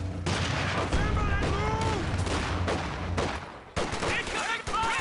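Gunfire crackles in a Company of Heroes 2 battle, rapid bursts mixing with explosions and engine rumble, dense and loud throughout, with voices from the game's units over the din.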